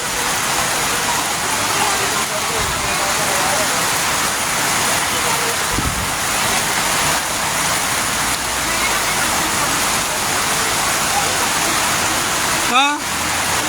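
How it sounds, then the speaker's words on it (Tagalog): Heavy rain pours down steadily as a constant dense roar, with a brief sharp clatter near the end. "patuloy pa rin yung ulan"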